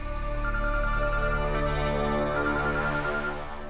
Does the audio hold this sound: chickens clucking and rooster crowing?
no